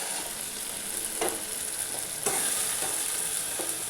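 Paneer pieces frying with spices in a pan give a continuous close sizzle, with several scraping stirs from a utensil at irregular intervals and no talking.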